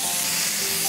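Oil mixed with a little water sizzling on a hot sizzler tray holding pasta and vegetables in tomato sauce, a steady close hiss that continues without break and with no talk.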